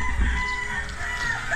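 Chickens in a backyard in Laguna, Philippines, a rooster crowing loudly and close with clucking hens around it.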